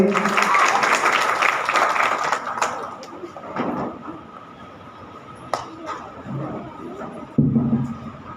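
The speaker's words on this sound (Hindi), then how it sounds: "सभी लोग तालियां बजाकर स्वागत करें" Sustained applause from a crowd at an Independence Day event welcoming a department head for a couple of seconds, then fading into scattered claps and low room noise with a brief burst near the end.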